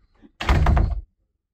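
A door opened using a Flipper Zero emulating the entry key, heard as a single short, loud thunk and rattle of the door, close by, with a faint click just before.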